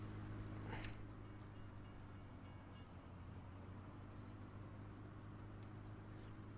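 A train rolls past in the farming game Farming Simulator 2017, a steady low rumble and rattle of wagons that holds evenly throughout at a modest level, with no voices.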